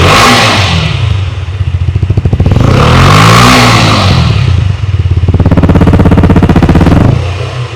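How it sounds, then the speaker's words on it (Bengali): A KTM Duke 125 European-version motorcycle revving hard close by, its exhaust note climbing and falling through several loud blips with a rough, buzzy idle between them. "আর ভিউয়ার্সদের কিন্তু আমি এই বাইকটির এক্সজস্ট নোটটাও শোনাতে চাই।"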